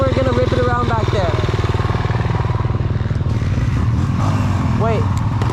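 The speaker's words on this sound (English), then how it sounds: "His engine's doing some weird shit." A motocross dirt bike engine idles roughly at a sand track, its close, loud, uneven chugging running throughout while people talk over it.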